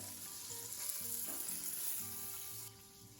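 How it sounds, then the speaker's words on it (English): Meat sears in an Instant Pot, giving off a soft, steady sizzle with faint crackle, heard alone and fairly quiet throughout. "now that my meat is seared and ready to go"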